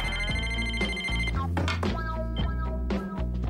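A telephone rings in repeated electronic bursts, loud and close, layered over a musical background with no talking.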